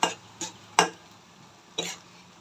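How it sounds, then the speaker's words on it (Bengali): A spoon stirs food in oil in a pan, making four sharp scraping strokes at uneven intervals with faint background quiet between them, close by. "তারপরে এটাকে এভাবে করে নেড়ে নেব।"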